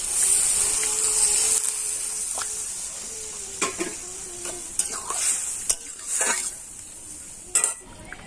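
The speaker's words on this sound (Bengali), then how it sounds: "ভালো করে কষে নিচ্ছি।" Mixed vegetables with ginger paste and a splash of water sauté in a pan, a steady sizzle and hiss broken by intermittent scraping and clinking spatula strokes against the metal, close and clear.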